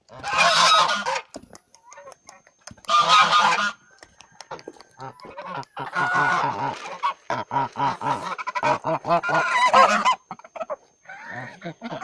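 Domestic geese honk in loud, repeated bursts near a homemade swimming spot, several calls overlapping with short pauses between them.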